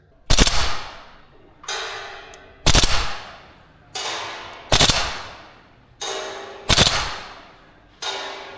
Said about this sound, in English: Can we do a burst of auto with a 4 on the 60?